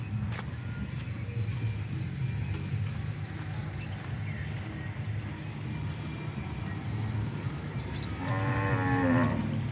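Local Banaskantha cows standing in the sun, including a tall red cow, moo loudly nearby over a steady outdoor rumble of farm animals, with a prominent low call toward the end.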